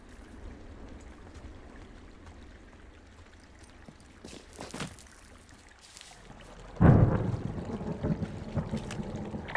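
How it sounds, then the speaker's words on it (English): Thunder in the video game Firewatch, a low rolling rumble that swells suddenly near the end into a loud, sustained roar over a quiet outdoor ambience. "Hey, I heard some thunder."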